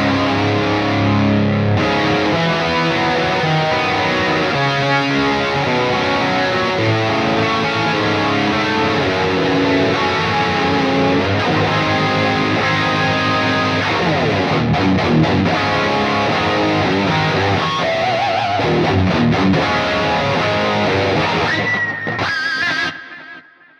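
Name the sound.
electric guitar with chorus effect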